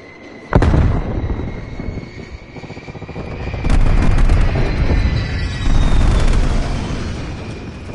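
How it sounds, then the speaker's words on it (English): Enemy spy plane passing overhead in Call of Duty: Black Ops Cold War multiplayer, a loud sustained aircraft roar with sharp booms and gunfire-like hits mixed in, swelling in bursts over several seconds. "Enemy spy plane inbound."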